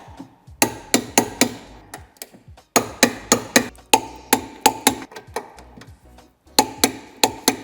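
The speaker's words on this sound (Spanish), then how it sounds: "Apretaremos ya los tornillos de 12 con la dinamométrica 87 Nm" A torque wrench ratchets in quick, close, evenly paced clicks while 12 mm bolts are tightened to 87 Nm during a tow hitch install on a 2020 BMW iX3 G08. The clicks come in several bursts with brief pauses between them and no talk.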